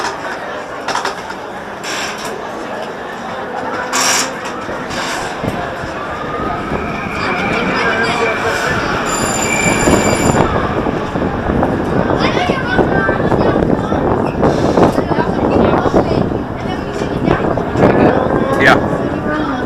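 Twister 2, a wooden roller coaster at Elitch Gardens, rattles and clanks from a front-seat ride as the train pulls away and builds into a loud, continuous roar of wheels and wind, with riders talking and shouting over it.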